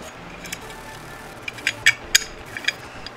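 A nut being tightened onto a bolt on a DIY mandrel-and-plate build, with a few quick, light metallic ratcheting clicks clustered near the end over a steady background hiss.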